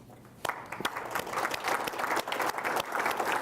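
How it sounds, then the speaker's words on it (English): Applause from the audience at a farming association annual general meeting, honouring a 4-H youth group; scattered claps build into steady, moderately loud clapping that grows fuller toward the end. "we can give a round of applause for our 4-H group."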